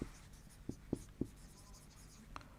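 Chalk or marker writing on a classroom board in a science class on soil makes a handful of short, soft taps and strokes in an uneven rhythm in a quiet room.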